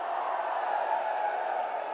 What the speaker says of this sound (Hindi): ये तालियां किसी को ऐसे नहीं मिलती।